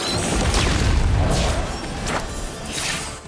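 A spell explosion from the mobile game Harry Potter: Magic Awakened booms and whooshes in several loud swelling bursts with sweeping tones, with no voices.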